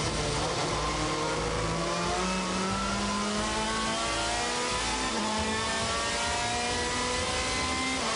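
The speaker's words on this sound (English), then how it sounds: "here comes Montero down the inside to make it a Honda 1, 2, 3" WTCC touring race cars, Honda and Citroen, racing at the 2016 Race of Japan, loud continuous engine roar with rising and falling revs as several cars pass close by, no voices.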